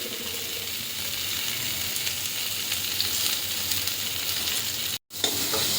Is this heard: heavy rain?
no